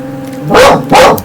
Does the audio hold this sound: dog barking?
yes